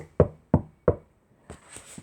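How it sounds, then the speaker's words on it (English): A cane tapping against an iron door: three sharp, evenly spaced knocks close by, each with a short metallic ring, followed by a softer faint clatter. "Marcus Bishop tapped his cane against the iron surface."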